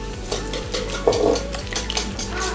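A cake batter being stirred or whisked briskly in a bowl for a birthday cream cake, with rapid repeated utensil scrapes and clinks against the bowl's sides, close and fairly loud, with no talking.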